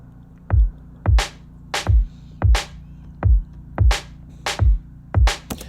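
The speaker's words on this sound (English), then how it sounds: "But the kick and snare together kind of sound like this." Punchy halftime drum pattern with a deep booming kick and a bright, crisp snare, glued together by bus compression; the hits land in a steady, spacious rhythm, loud and close with no voice over them.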